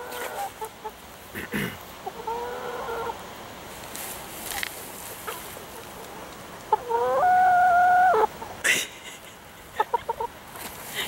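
Roosters crow in long drawn-out calls, one loud and near, with scattered clucks and brief noises around them outdoors.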